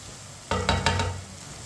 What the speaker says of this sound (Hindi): अदरक और लहसुन को मैंने 1 मिनट के लिए पका लिया।